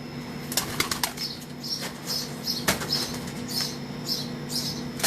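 Pigeons of an old Sher Dil breed flap their wings on a rooftop, with sharp repeated wingbeat bursts close by over a steady background hum.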